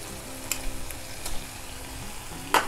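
Ginger garlic paste fries in a pan with softened tomato and onion, a soft, continuous sizzle with occasional sharper spatters and stirring clinks, close by and without talk.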